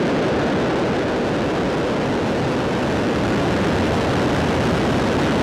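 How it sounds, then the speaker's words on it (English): Falcon 9 rocket lifting off on the Transporter-14 mission, a continuous loud broadband roar with deep rumble filling the whole stretch, steady and unbroken with no voices. "Ignition. And liftoff of Falcon 9."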